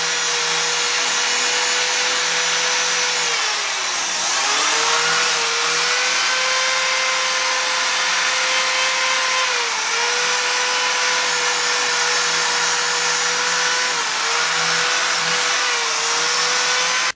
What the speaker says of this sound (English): I have one of the 3M buffing balls. I can just clean up some of the material that's on there